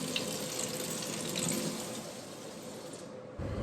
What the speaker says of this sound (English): We have hot water.